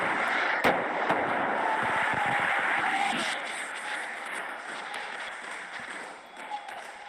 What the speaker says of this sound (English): Those are big ass fireworks.